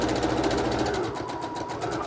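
Fast, even rattling of a sewing machine stitching straight down a line through fabric while piecing a patriotic three-fabric quilt, close and steady for about two seconds.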